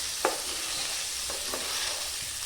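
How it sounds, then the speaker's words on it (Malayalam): Sliced onions sizzle steadily in a hot pan over high heat, with a few soft scrapes of a spoon stirring them, close and continuous with no talking. "അല്ലികളായിട്ട് അരിഞ്ഞിട്ടുള്ള സവോള, തീ മാക്സിമം വയ്ക്കുക."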